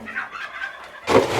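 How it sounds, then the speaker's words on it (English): Geese being fed give a short burst of loud, rough honking near the end, after a stretch of quieter background sound. "I gotta go feed the geese"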